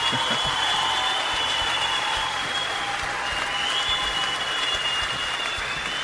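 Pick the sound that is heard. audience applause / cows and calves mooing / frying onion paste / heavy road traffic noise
audience applause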